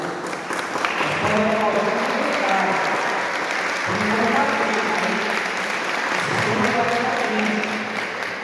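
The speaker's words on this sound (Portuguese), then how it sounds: "Vamos aplaudir a palavra de Deus" A church congregation applauds after a Bible reading, sustained steady clapping from many people with voices murmuring and speaking over it.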